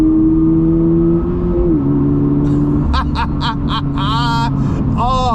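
A 2023 Toyota GR86 with a six-speed manual and a factory performance dual exhaust hums steadily at first, then revs sharply in several quick, rising bursts that ring out loud and close.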